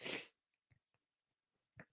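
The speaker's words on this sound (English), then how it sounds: "Sorry, I got a sneeze that just came out of nowhere." A single sharp sneeze bursts out at the start, followed by a few faint sniffs and breaths, then another short exhale near the end.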